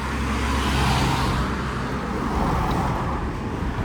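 Road traffic rolls along a village street in Wentworth, South Yorkshire, a steady, fairly loud broadband engine and tyre rumble of cars passing close by, continuous throughout with no voices.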